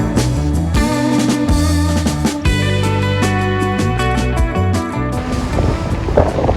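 Strong coastal wind at Exmouth buffets the microphone in a steady, loud roar, with low rumbling gusts that never let up for the whole stretch.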